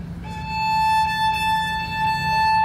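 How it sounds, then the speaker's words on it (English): A sustained high note bowed on a viola, a single steady pitch held for nearly three seconds with a slight change near the end, played alone at close range. "here's a high note that I get to play on the viola a lot."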